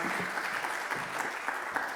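Audience applause at a talk, steady, dense clapping throughout at a moderate level with no voices.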